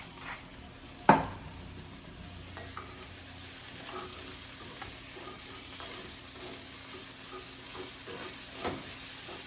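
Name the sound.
vegetables sizzling in butter while stirred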